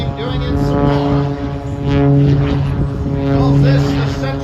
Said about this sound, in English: Again, rolling and rolling the airplane, doing it some more.